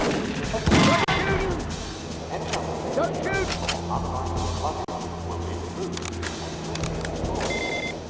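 Raptor Magnum pistol fire in The World is Not Enough video game, heard as a burst of loud shots near the start and scattered later reports amid game beeps, music and effects.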